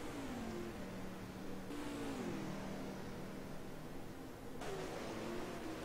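A race car from a racing video game roars down the long straight at Long Beach, its engine a steady, loud drone that climbs and shifts pitch through gear changes, with no voices over it.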